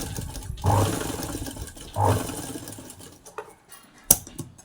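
A sewing machine stitching a lined blouse, with two short close bursts of motor whir separated by pauses, then a sharp click near the end.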